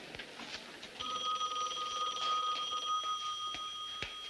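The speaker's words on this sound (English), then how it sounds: "Get Chrissy phone, will you?" An old 1970s telephone bell rings indoors in a continuous metallic ring of about two seconds, clear and fairly close, with faint room noise before it.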